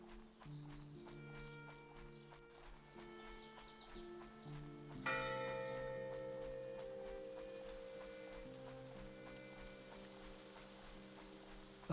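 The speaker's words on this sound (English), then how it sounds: "What are the bells?" Bells chime softly in the horror video game Inner Voice, a faint, repeated tolling with a stronger strike midway, alongside distant clopping ambience and no talk.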